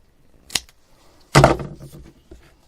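Scissors snip through fabric while rolled fabric beads are being made: one short sharp cut, then a louder, longer slicing cut a moment later, close by with no talking.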